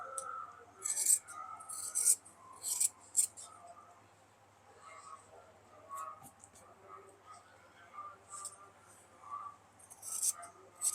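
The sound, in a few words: scissors cutting fabric for a collar kurti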